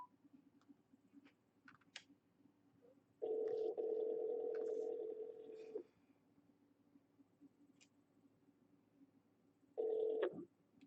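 A phone call being placed to return missed calls, with soft clicks followed by two steady tone bursts, one long and one short, like a dial or ringback tone.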